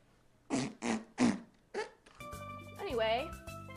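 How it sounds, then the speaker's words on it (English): A fart machine lets out four short, loud raspy blasts in quick succession, followed by a warbling tonal sound under light background noise. "Fart machine."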